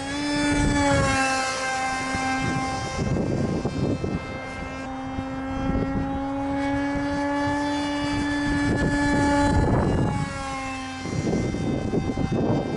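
An RC model airplane, a Guppy Remix with a 2200 battery in the nose, flies loops outdoors, its electric motor whining in a steady tone that rises and falls in pitch as it climbs and dives, with gusts of wind noise.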